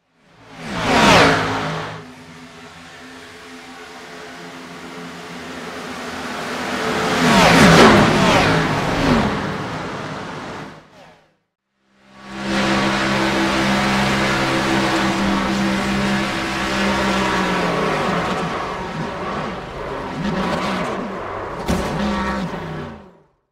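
A race car engine held at full throttle in an Xfinity race at Daytona in a video game, loud sustained roaring with rising pitch sweeps, a passing whoosh, a brief cut to silence, then the engine drone continuing steadily.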